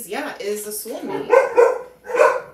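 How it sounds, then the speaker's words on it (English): A person talks while dogs bark and yip nearby, a few barks standing out over the voice. "Sorry about the dogs."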